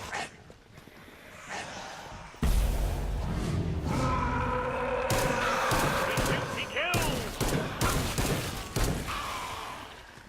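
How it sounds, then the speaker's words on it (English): Full-auto gunfire from a weapon in Killing Floor 2, fired without recoil reduction: dense bursts of rapid shots with thuds and game effects, loud and continuous after a quieter start, with a voice talking over it. "if you full auto this gun without that recoil reduction, it goes kind of wild"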